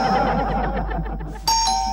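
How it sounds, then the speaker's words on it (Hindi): A doorbell rings with a clear electronic ding-dong, loud and close, following a short stretch of background music. "कब से डोरबेल बज रही है"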